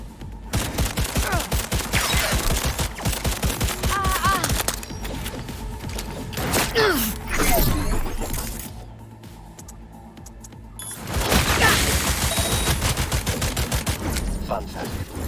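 Pistol fire in the video game Cyberpunk 2077, sharp shots cracking in rapid bursts across several volleys with brief lulls between, loud and close, with occasional game sounds in the gaps.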